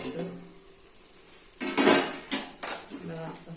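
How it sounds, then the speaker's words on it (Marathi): A pot lid is lifted off simmering spicy mutton curry, giving a few clanking metal knocks of lid against pot, with faint bubbling underneath and a voice speaking briefly before the clatter. "आपण आता काढूया झाकण त्याच्यावर"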